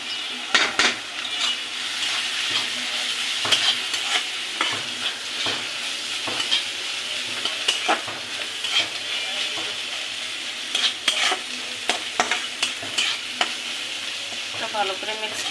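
Chilli powder being stirred into food frying in a pan, with continuous close sizzling under repeated scraping and clinking of a utensil against the pan, no talking.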